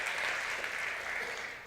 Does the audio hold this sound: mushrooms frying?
no